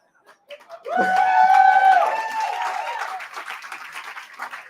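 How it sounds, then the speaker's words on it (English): An audience at a live coaching training session breaks into sustained clapping that swells quickly and then slowly thins out, with a few whoops and voices mixed in. "I don't know why you're clapping"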